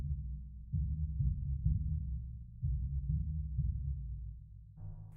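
Deep, muffled timpani rolls bleed softly through close microphones on an Imperial piano, forming low throbbing swells that rise and fade in waves, with a brighter resonant tone entering at the very end.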